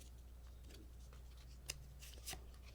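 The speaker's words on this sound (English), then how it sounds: "And I will shuffle the cards now" Tarot cards being shuffled by hand: faint, soft riffling and papery rustles with a couple of sharper flicks near the end, heard alone in a quiet room.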